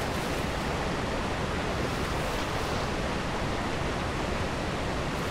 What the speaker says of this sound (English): the waterfalls are so loud in this map